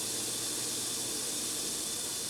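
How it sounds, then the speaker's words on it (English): Steam rises around a 10-pound weight held above it, making a steady, even hiss that holds at a constant level throughout, with no voices. "there's still steam going around it."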